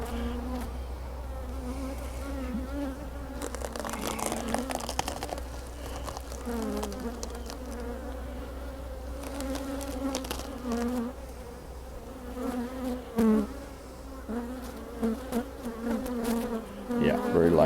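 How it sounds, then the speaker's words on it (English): Honey bees hum and buzz continuously on hive frames near the end of the honey flow, a close, swelling drone with individual bees passing by, and some faint background voice. "There's bees up here, and they're cleaning up the frames and they're getting everything ready here"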